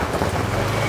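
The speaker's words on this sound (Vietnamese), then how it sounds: "Trời rất là mưa to" Heavy rain pours down in a dense, steady wash of noise, loud and close, with no voices over it.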